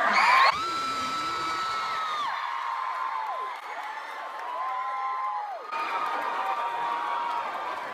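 An audience at a BookCon YouTuber panel cheers, whoops and shouts in sustained high-pitched waves, filling the space loudly throughout.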